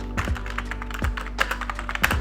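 Typing on an HP K300 gaming keyboard with mechanical-style keycaps but non-mechanical switches: rapid, close clicky keystrokes in an uneven rhythm over a steady low hum, with occasional heavier thunks, no speech.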